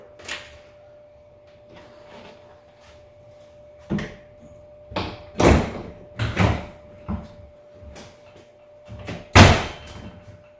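A Curtis cab door is refitted on a Kubota BX23S compact tractor: several close, loud knocks and clunks as the door is lowered onto its hinges and latched, the sharpest bang near the end, with quiet gaps between.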